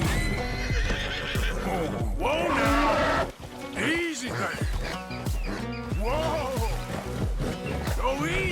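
Horses in Red Dead Redemption 2 neigh and whinny loudly, with hooves clip-clopping among varied game sounds; a single horse is being caught in the wild.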